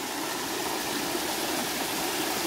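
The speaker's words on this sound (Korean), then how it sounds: "오늘은 비 온 뒤라서 그런지 계곡물도 아주 알맞게 흐르고 있습니다" A mountain stream runs full after rain, a dense, continuous rush of flowing water close to the microphone. It holds a steady level with no voices.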